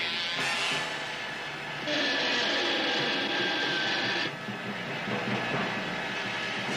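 A train being wrecked in a cartoon, a dense rattling, clattering roar that runs throughout, swelling into a harsher grinding for a couple of seconds before settling back.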